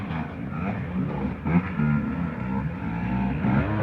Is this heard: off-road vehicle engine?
yes